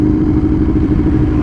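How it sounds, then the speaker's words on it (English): An Aprilia RSV1000R motorcycle engine runs loud and close, a steady deep exhaust rumble with a continuous low throb throughout. "Oh, I love the sound of this exhaust."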